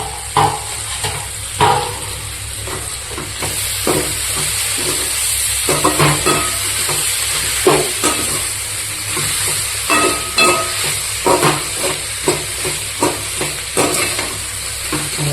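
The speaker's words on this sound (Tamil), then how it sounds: "இனி வந்துட்டு நம்ம தக்காளி போட்டுக்கலாம்." Tomatoes being stirred into fried onions for spicy pepper chicken sizzle steadily in the pan, punctuated by regular spatula scrapes and knocks, close up and unaccompanied by talk.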